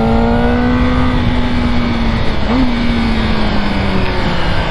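A motorcycle engine drones steadily and loudly throughout a sporty ride, with a sustained low tone and a brief pitch rise midway, no voices.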